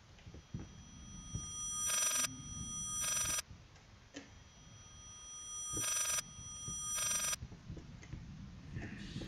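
A telephone bell in the horror video game Layers of Fear rings in reversed, backwards form, in four loud bursts separated by gaps of about a second or more, over a low ticking background.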